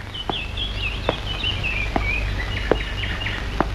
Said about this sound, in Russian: Соловей.